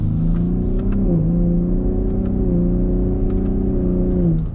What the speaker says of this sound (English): Wow, this V6 revs fast.